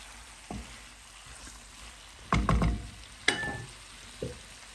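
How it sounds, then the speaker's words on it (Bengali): A whole tilapia frying in hot oil with spices, heard as close, short bursts of sizzling and stirring scrapes separated by quieter gaps, with no talking. "তারপর আমি চাচ্ছি মশলার সাথে মাছটা আমি কষিয়ে নিই"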